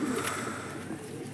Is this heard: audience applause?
no